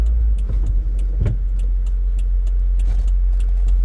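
A Toyota vehicle with suspected blown head gaskets on a high-speed run, steady close engine and road drone throughout, with a few brief knocks and rattles near the start.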